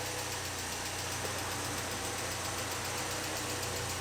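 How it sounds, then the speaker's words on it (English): A Mercedes C-Class engine idles just after an oil change, giving a steady, even low hum with faint mechanical vibration throughout, close by and with no talking. "So let's let it idle for a few seconds, make sure the oil goes everywhere"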